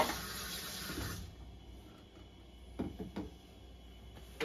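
Tap water filling the plastic water reservoir of a Keurig K-Slim +ICED coffee maker, a steady rushing pour at first that fades, followed by a few close knocks and handling clunks of the container.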